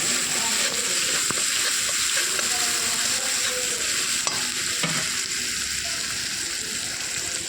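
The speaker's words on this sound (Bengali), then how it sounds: "এবার দিলাম আদা পেস্ট এবার মিক্স করে ভালো করে" Ginger paste and nigella seeds fry in hot oil in a kadai, with a steady loud sizzle and stirring scrapes running throughout.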